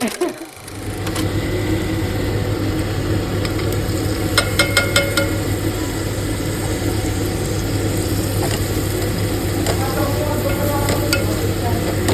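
Puris frying in a pan of oil produce a loud, continuous crackling sizzle close by, with a steady low hum underneath and a few faint clinks.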